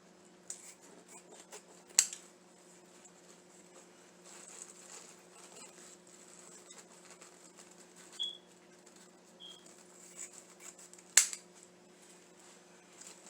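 Scissors snip through black artificial flower stems for a Halloween arrangement, two sharp isolated cuts several seconds apart over a quiet room with faint handling rustle.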